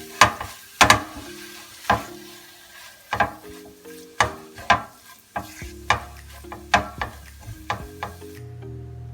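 Peppers in a vegan tofu scramble are stirred in a pan, with about a dozen sharp scraping and clacking strokes in uneven rhythm, close and clear, over a faint sizzle.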